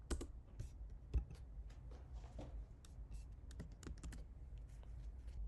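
Close, brisk typing on a computer keyboard, with irregular clusters of sharp keystrokes and a few louder taps over a low room hum.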